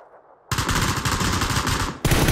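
Rapid automatic gunfire in PUBG, loud and close, a dense burst of shots that stops briefly and then resumes, with no voices over it.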